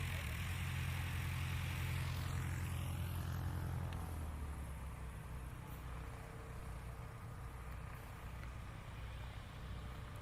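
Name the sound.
STOL aircraft taxiing off the runway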